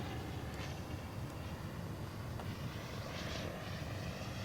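A 40% scale Jungmeister RC aerobatic biplane on landing approach, its engine a steady, faint droning hum heard from a distance against outdoor noise, with no clear changes in pitch.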